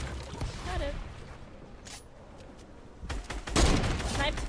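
Sniper rifle fire in Fortnite rings out as sharp game shots over busy in-game noise, with players talking over the action.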